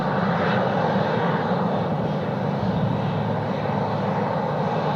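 Airliner taking off from Sydney Airport's runway 16 right, a steady loud broadband jet engine roar that holds constant throughout, with no talking over it.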